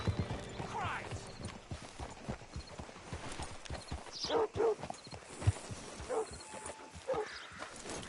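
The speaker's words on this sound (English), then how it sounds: "Hitch your horse up here." Hooves clip-clop in an uneven walking rhythm in the video game Red Dead Redemption II, with a horse's short snorts and whinnies and some low voices in the background.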